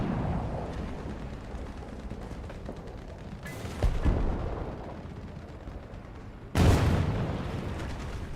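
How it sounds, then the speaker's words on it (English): Two heavy booming cannon shots in War Thunder, the first duller and the second sharper and louder, each bursting out of a steady rumbling battlefield din. "I don't know what that shot was, but it scared the crap out of me."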